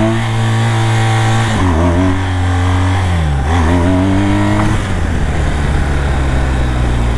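A BMW 1200 motorcycle engine revs hard and loud, its pitch climbing and dipping several times as it strains under load, with no talking.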